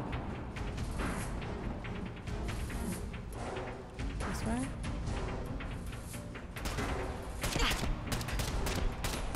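Gunfire in Fallout 4, rapid bursts of shots and crackling impacts repeating through dense, busy game combat noise, with a few brief quieter gaps between volleys.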